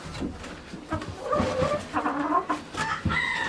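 Several chickens cluck and squawk close by in a busy, continuous flock chatter, with a rooster's higher calls cutting through near the end.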